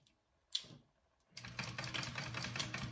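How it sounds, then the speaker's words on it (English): Sewing machine running a steady stitch for a 1/4 inch seam on a shoulder bag, starting after a brief knock and then humming and clattering continuously and close up. "I'm going to stitch it at a 1/4 inch seam allowance down each side"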